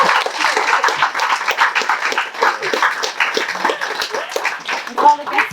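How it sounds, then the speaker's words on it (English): Wedding guests applauding the couple after their vows, dense clapping that swells and dips steadily, with voices mingling underneath and a brief murmur of talk near the end. "I think they deserve a round of applause"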